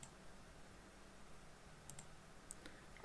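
Faint, sparse mouse clicks while working in Archicad 26: a single click, then a quick double click and one more soft click over quiet background hiss.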